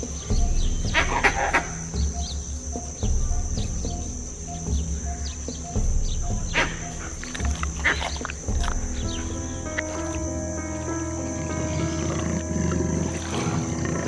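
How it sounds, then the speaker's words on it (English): A jaguar in the Amazon rainforest gives deep, guttural roaring bursts over a dense bed of insect buzz and bird calls. "The jaguar's roar is one of the most resonant and terrifying sounds in the rainforest"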